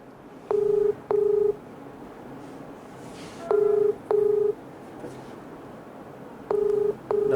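Ringback tone on an outgoing phone call to an official's number that goes unanswered: three pairs of steady electronic double rings, each pair about a second long and separated by roughly two-second gaps, clear and alone.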